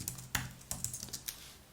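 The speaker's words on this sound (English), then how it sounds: "My typing is not good tonight." Typing on a computer keyboard produces a quick, irregular run of close, crisp key clicks with a few sharper strikes and no talking.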